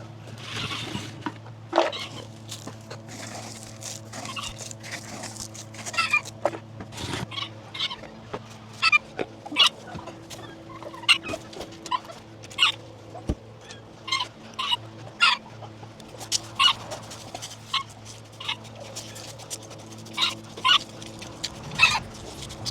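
Chickens cluck in short, scattered bursts over a steady low hum, some calls sharper and closer than others.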